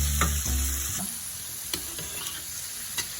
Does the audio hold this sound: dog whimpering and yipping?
no